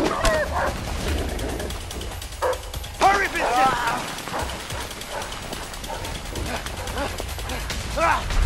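Dogs barking and yipping during a chase, close and urgent, mixed in with a busy, noisy scene and voices talking over them.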